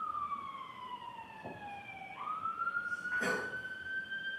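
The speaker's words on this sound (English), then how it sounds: "Hold on, wait for the ambulance, and then speak up." An ambulance siren passing outside a courtroom, a distant wailing tone that dips and rises again, carrying steadily over faint room noise with a brief knock partway through.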